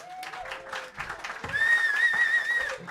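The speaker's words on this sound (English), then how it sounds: "Guys, please put your hands together for a local legend, Allan Brady." A comedy club audience applauds and whistles for a comedian taking the stage, a steady mid-level wash of clapping with a couple of sustained whistles rising over it.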